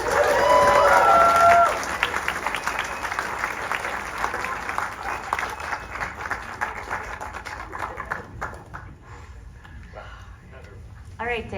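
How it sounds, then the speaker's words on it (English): Applause from a festival audience after a Hellraiser screening swells loudly at first with a few cheers and voices, then thins into scattered claps that fade toward quiet. "Another big round of applause."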